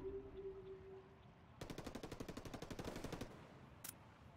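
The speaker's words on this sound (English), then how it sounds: "Bones is going to take some shots on Oak" Gunfire in a Ghost Recon multiplayer match sounds as one fast, evenly spaced automatic burst of about twenty shots, clear but somewhat distant, followed by a single sharp shot, with no talk over it.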